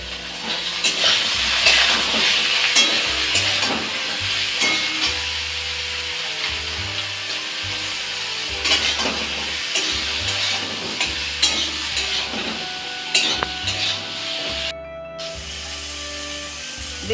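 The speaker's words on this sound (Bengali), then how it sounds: "বেগুনগুলো আমি ভেজে নিই।" Eggplant pieces frying in oil in a pan with salt and turmeric make a continuous close sizzle, broken by repeated scraping and stirring of a utensil against the pan.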